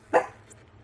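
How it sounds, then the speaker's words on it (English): A single short bark from a dog behind the speaker indoors, one brief, moderately loud yip followed by quiet. "He's like, barking at the wall anyway."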